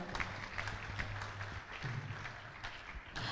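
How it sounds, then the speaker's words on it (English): Audience applause at a Sunday temple gathering welcoming a guest speaker: a steady, fairly faint wash of many hands clapping that continues evenly throughout. "Let's give her a round of applause"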